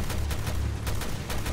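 Magnum revolver shots in Resident Evil Revelations 2, a few heavy blasts spaced across a second and a half over a dense, loud game soundscape.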